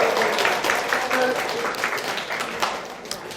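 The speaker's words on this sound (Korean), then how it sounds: "우리 먼저 주님의 부활을 우리 박수로 기뻐하며" A church congregation applauding during an Easter Sunday service, a steady wash of clapping at moderate level with a voice speaking over it.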